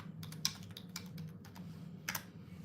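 Keys clack on a computer keyboard in a few quick, close taps over a low steady hum, with no talking.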